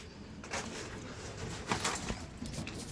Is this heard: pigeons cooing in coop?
yes